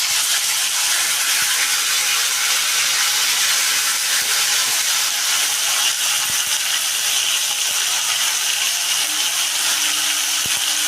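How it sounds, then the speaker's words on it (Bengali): Chopped tomato and a spoonful of ginger paste hit oil with already fried spices, raising a constant, even hiss of sizzling and steam that runs unbroken at close range. "আমি মশলা এগুলো ভেজে নিয়েছি এবার আমি এখানে একটা টমেটো কুচিয়ে রেখেছি টমেটোটা দিয়ে দিলাম এক চামচ আদা বাটা দিলাম"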